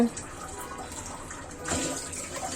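Tap water runs steadily as hands are washed in a kitchen, a close rushing splash that swells slightly partway through.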